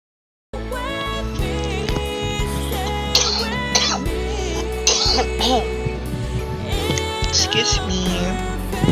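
A few coughs break out between people talking during a Perfect World esports broadcast, with a tonal background sound running throughout.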